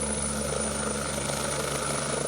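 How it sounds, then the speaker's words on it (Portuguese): A Federal Highway Police helicopter flies overhead during a manhunt, its steady rotor and engine drone holding constant and moderately loud with no other sounds over it. "Essa é uma aeronave da Polícia Rodoviária Federal, que integra a Força Tarefa."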